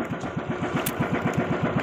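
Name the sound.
engine starting up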